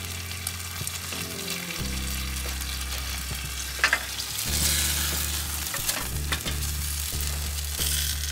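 Strawberry and cream cheese French toast hits a hot pan, giving a continuous close sizzle with a few soft taps and bursts of louder spitting as it cooks.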